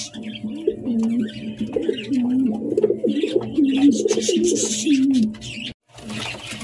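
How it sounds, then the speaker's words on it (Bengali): Lahori pigeons coo in repeated warbling, throaty phrases close by, nearly continuous with brief pauses, over faint background noise and occasional soft voices. "অনেক বড় সাইজের কবুতর"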